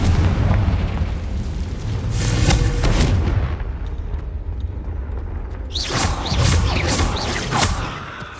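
Confringo explosive spell blasts in Hogwarts Legacy, a near-continuous run of loud, heavy booms and crackling bursts. A short lull comes midway, then another barrage of blasts, with no speech.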